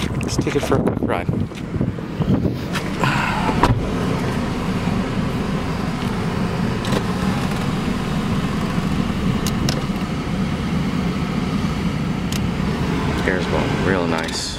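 A 2007 Chrysler PT Cruiser Limited on the road, its cabin filled with a steady engine and road rumble plus airflow noise, with a few small clicks and bumps.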